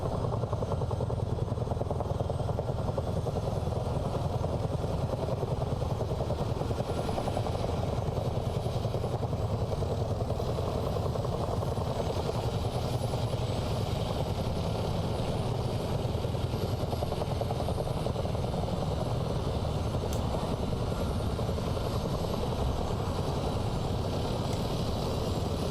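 A Chinook CH-47 helicopter in Microsoft Flight Simulator drones steadily for the whole stretch, a dense, even rotor and engine roar at constant loudness with no voices.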